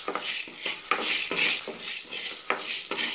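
Black peppercorns roasting in a pan give a soft sizzling hiss broken by repeated light scraping and rattling strokes of a spoon against the metal, close and steady throughout.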